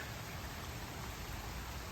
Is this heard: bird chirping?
no